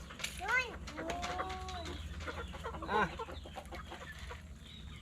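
Farm chickens cluck and squawk at feeding time, several sharp calls standing out over a steady outdoor background while people talk nearby.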